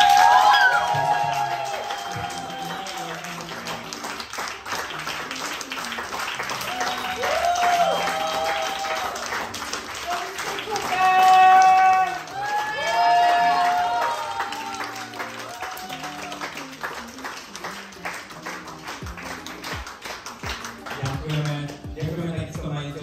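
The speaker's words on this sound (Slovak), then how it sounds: "Takže hlavne tebe veľký potlesk za to," An audience at a drag queen show in Castle Café, Nové Zámky, gives sustained applause and clapping, with a speaker talking over it and some cheering and whistles rising and falling throughout.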